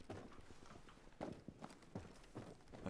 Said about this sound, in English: I like the sounds of footsteps.